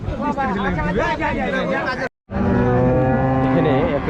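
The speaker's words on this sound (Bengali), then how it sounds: "সুন্দর একটা ষাঁড় বাচ্চা" Cattle, including a bull calf, low at a livestock market in Rajshahi. The moos rise close and loud through dense crowd chatter, which stops briefly midway and then resumes.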